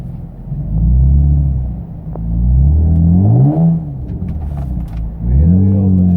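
A camo-wrapped Nissan 350Z driving slowly over a bumpy country road, its engine rumbling and rising and falling in pitch across repeated gentle revs, with jolts and rattles from the rough surface under a talking voice.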